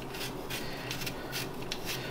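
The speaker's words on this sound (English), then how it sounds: "I don't know how many apples she's gonna make me peel, but I guess I'm just gonna peel as many as I need to." A handheld peeler scrapes apples in quick repeated rasping strokes, soft and close, a rhythmic rubbing texture with no voices.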